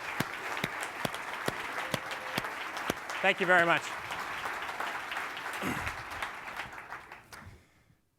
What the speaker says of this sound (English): I just want to give a round of applause to these guys